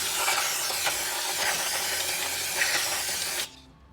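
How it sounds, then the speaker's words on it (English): Brake cleaner sprays onto greasy brake shoes from a Toyota Tundra in a loud, steady, close hiss that runs for a few seconds, then cuts off abruptly. "Guess we can brake clean them"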